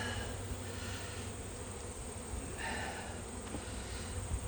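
At an open hive with a single brood chamber, honey bees keep up a thick, unbroken buzzing close by, swelling slightly as individual bees pass near, with no speech.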